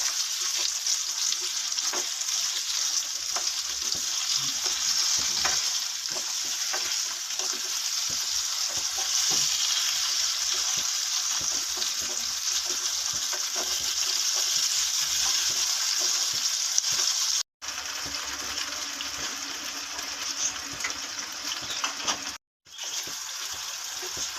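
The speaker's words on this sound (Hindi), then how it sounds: "पाँच मिनट तक हम आलूओं को भूनेंगे" Potatoes with salt, turmeric and chili fry in a pan, giving a steady, dense sizzle throughout, close and fairly loud, with two brief dropouts near the end and no talking.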